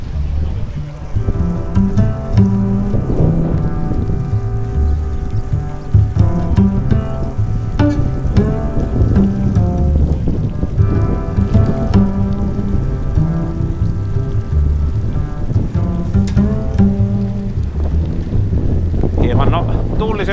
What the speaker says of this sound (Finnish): Hieman tuuliset sääolosuhteet. Sade pieksää.